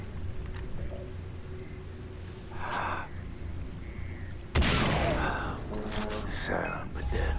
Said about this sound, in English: What if I use my hunting rifle